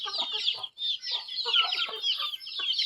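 Chicks peep in rapid, overlapping high chirps, close and continuous, with small pauses between bursts.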